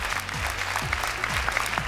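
Audience applause rings out at an X Factor Armenia gala results show, a steady wash of clapping from a large crowd holding for the full two seconds, with some tonal sounds running underneath.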